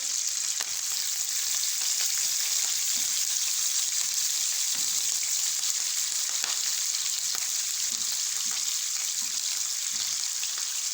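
Steady, loud sizzling and frying as tomatoes cook in hot oil for a sarson ka saag tarka, with occasional soft stirring clatter and no talking.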